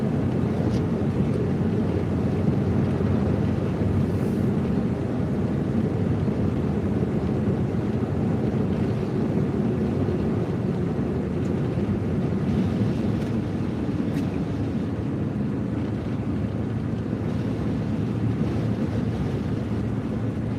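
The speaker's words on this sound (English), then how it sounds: "That wind is really getting it. It's really blowing that cold air in." A strong winter storm wind roars without letup in cold weather, a dense, steady rush that buffets the microphone at close range, loud and alone with no voices.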